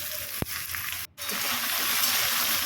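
Pumpkin and snake gourd frying in a pan, a steady loud sizzle with a sharp scrape of the stirring utensil and a brief cut-out before the hiss resumes.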